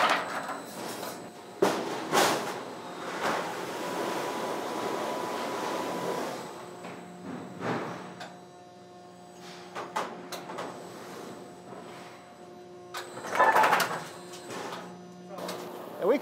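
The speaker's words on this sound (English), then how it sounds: "we can bend any length trim up to 20 feet long with this machine" A metal roofing trim bending machine, able to bend trim up to 20 feet long, runs in a factory with a steady mechanical drone, punctuated by metallic clanks and bangs, while people talk in the background.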